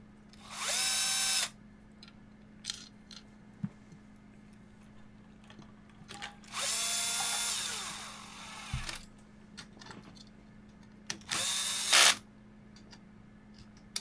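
A power drill set to its lowest torque drives screws into a prize wheel under repair in three short bursts, each whirring briefly then stopping, with faint clicks and handling noises in the quiet gaps between.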